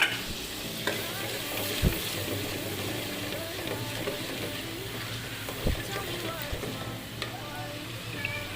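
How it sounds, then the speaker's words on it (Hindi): Masala with korma spice, ginger and salt frying and being stirred in a pan for aloo gosht, a steady close sizzle with occasional scraping knocks of the spoon, no talking. "हमारा मसाला अच्छे तरीके से भुन चुका है।"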